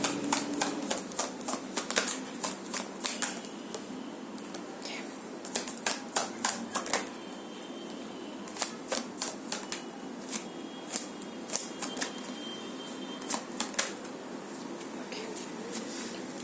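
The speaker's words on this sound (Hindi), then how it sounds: "अभी मैं आपके पर्सन के लिए 3 कार्ड्स लूंगी।" Tarot cards are shuffled and drawn from a deck at close range, producing scattered bursts of crisp riffling and slapping card sounds over a soft background hum, with someone talking quietly at times.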